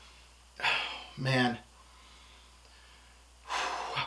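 Three short, loud sniffs close up at Davidoff Leather Blend perfume sprayed on a hand, separated by pauses, with no talking between them.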